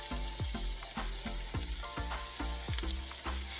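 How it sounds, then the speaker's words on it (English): Diced onion sizzles steadily in hot olive oil over medium heat, a dense close-up crackle broken by a regular series of clinking utensil strokes against the pan, roughly two per second, with no talk. "we're going to go ahead and caramelize some onions."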